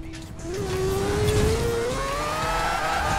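A tuned Mazda RX7 with an engine swap drifting in the video game Forza Horizon 4, a loud engine whine climbing steadily in pitch as it revs, with rough tyre noise beneath.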